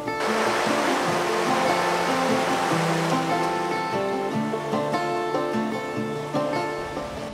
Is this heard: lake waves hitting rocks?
yes